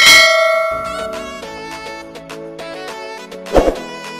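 Bright ringing bell tones set off a notification chime, with a cluster of strikes and a sustained metallic shimmer that layers and fades, loud and clear with no voices.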